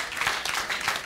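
Strong applause from a church congregation, a dense wash of many hands clapping that swells slightly in waves over about a second, fairly close and filling the room.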